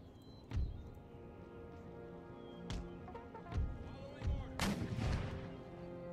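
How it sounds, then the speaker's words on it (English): Howitzer artillery firing round shot in the Empire Total War battle game, with several deep booming reports spaced a second or so apart over a faint battlefield bed, ending in a louder, longer blast. "Keep my howitzers firing round shot, just to try to get some shots off."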